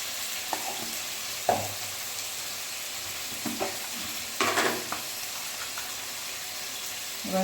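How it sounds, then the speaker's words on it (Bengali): Salted, turmeric-spiced dish being stir-fried in a pan: a steady low sizzle broken by a few sharp spoon scrapes and knocks against the cookware, with no voices. "এবার এটাকে শুধু কষাতে হবে"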